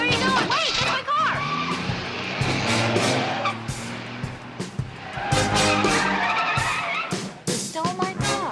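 A stolen car speeds off with loud tire squeal and skidding, engine roaring close by in a dramatic chase scene, with shouting voices over the noise.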